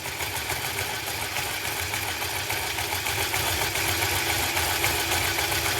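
Electric motor whirring steadily while its supply voltage is stepped up, a dense continuous hum with a bright high whine and a faint rise in strength over the run, no voices.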